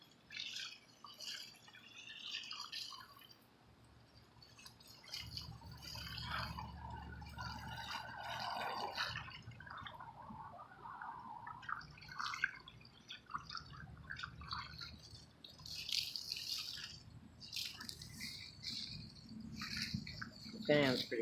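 Water trickles gently while rinsing the outdoor unit of a central air conditioner, a soft, irregular dribbling and splashing heard beneath someone talking throughout.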